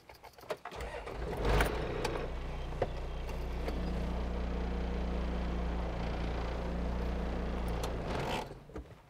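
A Toyota Land Cruiser engine cranks briefly, catches and settles into a steady, fairly quiet idle nearby before dying down at the end.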